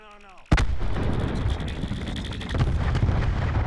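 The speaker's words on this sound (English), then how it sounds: "When it detonates, a shitload of bomblets fly out." A cluster grenade goes off in Call of Duty: Black Ops 4. One sharp, loud blast is followed by a dense, sustained rumble and crackle of bomblets bursting, which swells again toward the end.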